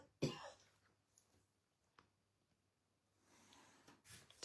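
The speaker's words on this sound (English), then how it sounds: "Sorry, I'm going to cough." A single close cough bursts out, followed by faint scratching and a quieter throat sound near the end.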